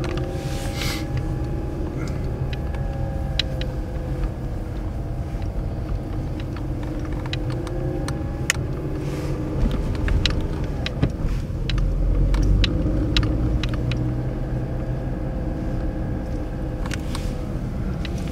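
A queue of cars with running engines, a continuous low idling rumble that holds steady and swells slightly partway through, with scattered small clicks and knocks on top and no voices.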